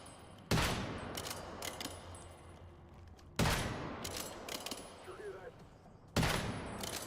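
Gunfire in the survival shooter game Once Human, three loud bursts of shots spaced about three seconds apart, each followed by decaying rattle and ambient game noise.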